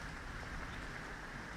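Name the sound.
rain in the video game Elite Dangerous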